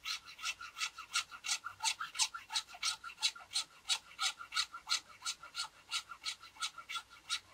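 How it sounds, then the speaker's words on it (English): Hand hacksaw cutting across a wooden bow tenon, a steady run of rhythmic rasping back-and-forth strokes, about two per second, close and fairly quiet with no talking. "with a hacksaw"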